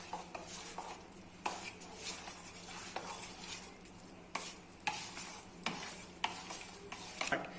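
Soft, quiet stirring as vegetables are mixed into paddu batter, with repeated light scraping and clinking of a spoon against a bowl at an irregular rhythm.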